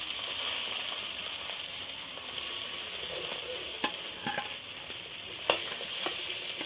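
Prawns fry in hot oil in a pan for a chingri malai curry, giving a steady close sizzle throughout with a few sharp clicks and pops near the end.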